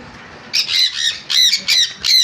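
Conures, including pineapple conures, give a rapid run of five loud, harsh squawks close by after a brief quiet start, with the calls coming in quick succession.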